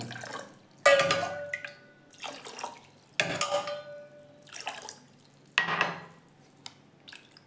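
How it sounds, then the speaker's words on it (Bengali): Sabudana is washed in water, with bursts of splashing and sloshing, clinks against a bowl and pauses between, close by and with no voices. "এইবার এটাকে আমি জল দিয়ে ভালো করে ধুয়ে নেব।"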